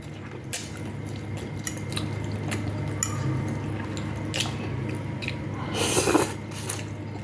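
Close, wet chewing and biting of rice with restaurant-style Chinese noodles, soft squishy mouth sounds repeating steadily with a few sharper smacks.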